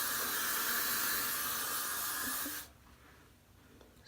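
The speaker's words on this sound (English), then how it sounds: "I take my spray, shake it up, and just go across the top one more time." Hair spray from an aerosol can hisses steadily across the top of a frontal wig for about two and a half seconds, close and fairly loud, then cuts off abruptly to near quiet.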